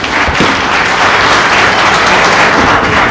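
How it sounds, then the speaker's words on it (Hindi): A crowd at a political gathering applauds loudly for a speaker, with dense, sustained clapping close by and no speech over it. "इस सर के लिए जोरदार तालियां"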